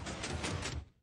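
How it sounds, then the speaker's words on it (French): Minecraft pistons slide a 3x3 block door with a quick, muffled whooshing scrape of the video game, a short burst of several overlapping pushes that cuts off cleanly after about a second. "Désolé pour le bruit des pistons."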